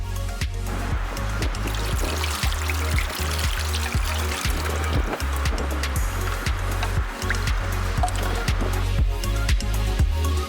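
Water pours and splashes over a OnePlus 9 phone in a waterproof test, a steady close rushing stream with a low rhythmic hum beneath.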